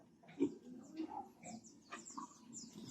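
A breeding sow grunts and snorts softly at a farm, a string of short, low grunts at a distance, faint, with no talking.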